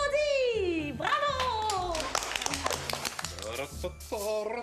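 Brief bursts of clapping from a children's show audience, scattered and light, mixed with sung and spoken voices that dominate much of the moment.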